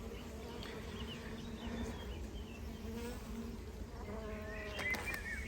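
Honeybees buzz continuously at close range, a dense hum of many insects with individual bees zipping past now and then.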